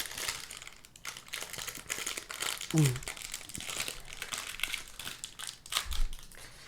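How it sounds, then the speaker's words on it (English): A snack wrapper being unwrapped, giving a continuous close crinkling and crackling of plastic packaging with a few sharper crunches, while voices can be heard faintly in the background. "can I unwrap my snack?"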